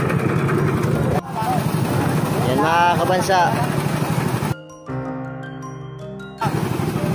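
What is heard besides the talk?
blower machine engine starting and running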